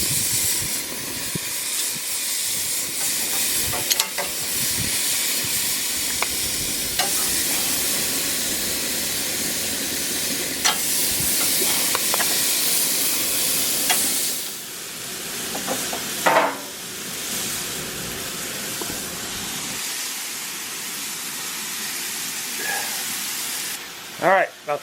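Gochujang-marinated Korean short ribs sizzle and hiss steadily on an outdoor grill on a bright sunny day, a dense constant frying noise broken by a few sharp pops, with a person speaking over it at times.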